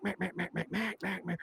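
A duck call mimics a hen mallard with a rhythmic run of about eight loud, nasal quacks, the middle ones drawn out longer, close and alone without talk.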